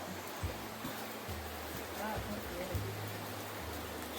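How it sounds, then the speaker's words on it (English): A small waterfall trickles in a rocky gorge, a steady, broadband splashing rush that continues throughout, with some low rumbling and faint talk underneath. "A little bit of a waterfall."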